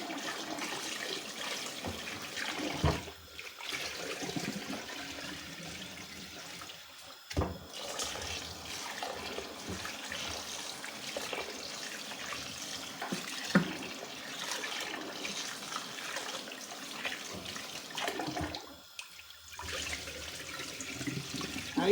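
Farro (emmer wheat) grains being washed in a water-filled bowl, with soft sloshing, trickling and swishing that rise and fall over about twenty quiet seconds, broken by a few brief gaps.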